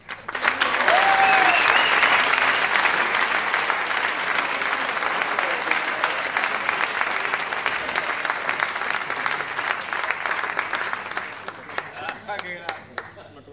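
A blues concert crowd breaks into loud, sustained applause with dense clapping and some cheering, slowly thinning out over about thirteen seconds.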